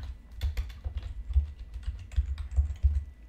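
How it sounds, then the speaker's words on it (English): Rapid, uneven keystrokes on a computer keyboard as a name is typed in, close and fairly quiet, with no voices. "Type the name Elizabeth."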